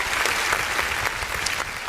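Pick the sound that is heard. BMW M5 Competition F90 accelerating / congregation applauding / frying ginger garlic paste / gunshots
congregation applauding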